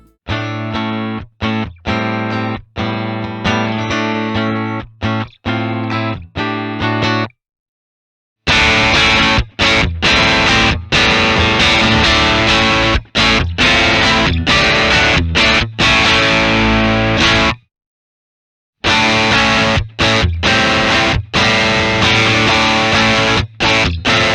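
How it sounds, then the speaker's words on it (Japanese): An electric guitar plays through a distortion pedal captured on a Hotone Ampero II, producing loud, crunchy chords and riffs in two bursts separated by short silences. "もう一つ歪みペダルでも試してみましょう。"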